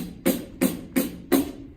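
Four evenly spaced fingertip tap strokes on a pandero frame drum, crisp and close, each a short bright slap with a brief ringing body, heard alone without talk.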